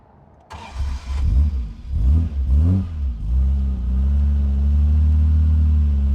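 A 1956 Aston Martin DB3S-R racing car cranks and fires, barks through several sharp blips of the throttle, then settles into a steady, loud, throbbing idle.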